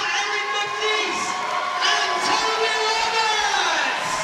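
A large crowd cheers and shouts continuously at a British Lead Climbing Championships final, a loud roar with voices rising and falling, some high excited yells standing out.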